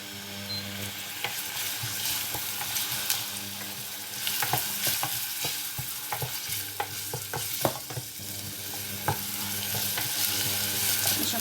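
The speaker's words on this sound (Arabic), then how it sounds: "هذايا باش نبدا نقلي فيه شويه." Chopped onion frying in a pan for a minced-meat spaghetti sauce, a steady sizzle with stirring clatter and scrapes, close and moderately loud throughout with no talking.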